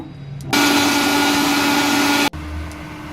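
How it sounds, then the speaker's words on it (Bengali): A mixer grinder whirs loudly and steadily for about two seconds, blending steamed green peas with a green chilli into a smooth paste, starting and stopping abruptly. "ভাপিয়ে রাখা মটরশুঁটিগুলো মিক্সার গ্রাইন্ডারে দিয়ে দিচ্ছি"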